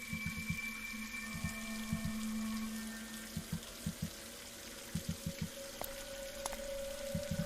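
Water runs from a tap in the PC game Scratches, a faint steady stream under rapid clusters of small clinks and taps repeating every second or so.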